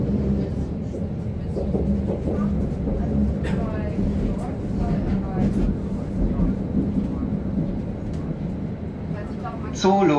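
A new Berlin U-Bahn type JK train running on the U2 line, a steady loud rumble and rolling wheel noise from inside the car, with brief squeals and faint voices.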